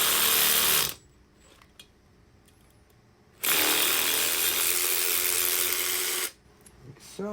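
A power ratchet with a 7/16 socket runs fine 5/16 threads on the rocker box of a 1972 Harley XLCH Ironhead, heard as two loud, close sustained buzzing runs with a quiet gap between them.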